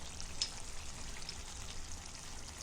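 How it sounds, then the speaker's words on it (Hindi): Water poured from a glass into masala frying on low gas, with salt just added, for a fish gravy in a Konkani Muslim thali; a steady soft splash and hiss goes on for the whole stretch, moderately close and fairly quiet, with no talking. "1 गिलास पानी डालेंगे।"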